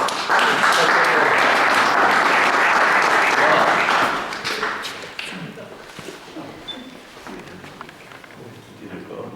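Audience at a poetry gathering in Mussomeli breaks into loud, dense applause for a guest, which holds strongly for about four seconds and then thins into scattered clapping with some murmuring voices.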